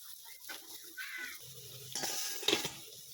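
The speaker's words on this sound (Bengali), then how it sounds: "এইভাবে একে একে আমি সব ডাল বাটার বড়াটা ভেজে নেব" Hot oil sizzles and spits in a pan as lentil fritters fry, with stirring and a couple of clinks from a utensil; faint and close, with no speech.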